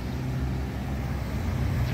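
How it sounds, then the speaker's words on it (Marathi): A Chevrolet car on Highway 59 in early-morning downtown Plainfield rumbles steadily past, a close, continuous low engine and tyre roar with no talk. "कार शेवर्लीची आहे"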